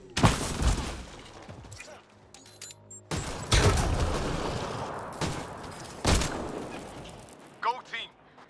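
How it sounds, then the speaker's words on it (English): Enemy gunfire in the sci-fi shooter Mass Effect: Andromeda comes as several loud bursts of shots separated by brief lulls, with game noise around them. "He's shooting me."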